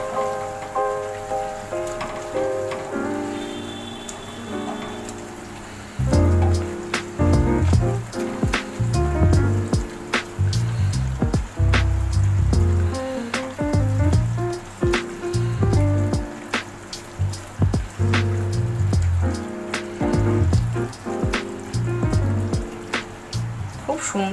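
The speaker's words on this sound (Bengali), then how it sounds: "পাঁপড় দিয়ে হালকা একটু ফুটিয়ে নেব।" Bengali doi papad curry, yogurt gravy with papad, bubbling gently in a pan, a continuous close patter of popping and sputtering that swells after a quieter start, with music playing underneath.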